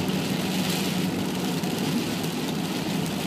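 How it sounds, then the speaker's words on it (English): Rain heard from inside a moving car as a dense steady hiss of drops over low road and engine rumble, continuous throughout with no talking. "the rain's now kind of picking up furiously"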